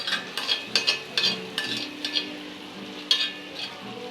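Paneer tikka cubes fry in well-heated oil while being stirred. A low, quiet sizzle runs under sharp clinks and scrapes of the utensil against the pan, with no talking.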